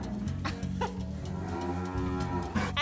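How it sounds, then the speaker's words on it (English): Dairy cows moo repeatedly in Bavaria, with several long, low calls overlapping one another. The lowing is loud and close, and no one speaks over it. "Coming up next, we get down with the dairy cows."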